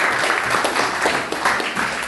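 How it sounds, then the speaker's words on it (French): A church congregation claps for brother Job in a short burst of dense, steady applause from many people. "Applaudissons pour le frère Job."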